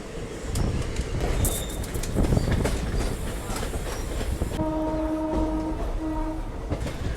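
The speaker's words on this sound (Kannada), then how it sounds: "ನಾವು ತೋರಂಗಲ್ ಸ್ಟೇಷನ್ಗೆ ಅರೈವಲ್ ಆಗ್ತಿದ್ರೆ ಗೂಡ್ಸು ಡಿಪಾರ್ಚರ್ ಆಗ್ತಾ ಇದೆ, ಲೋಕೋಮೋಟಿವ್" Goods train pulled by a locomotive departing a station on the Munirabad to Ballari route, a loud rumble of wagons with clattering wheels, then a long sustained horn blast heard from a moving train.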